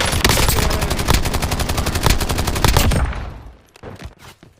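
Rapid automatic gunfire from a Call of Duty Warzone match, a dense burst of loud close shots firing steadily for about three seconds before cutting off, followed by a few scattered fainter reports.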